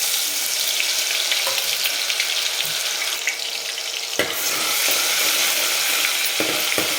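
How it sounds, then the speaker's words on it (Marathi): Ginger-garlic paste hits hot oil in a pan, giving a steady, loud close sizzle and crackle throughout, with a few sharp spatters and a brief stir around the middle; no one speaks. "तेल चांगलं गरम झालं त्याच्यामध्ये अगदीच अर्धा चमचा आपल्याला आलं लसणाची पेस्ट टाकायची"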